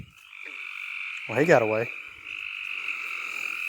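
A frog at a pond gives one loud, close, rippling croak lasting about half a second. A steady high insect drone runs throughout, and a person speaks briefly.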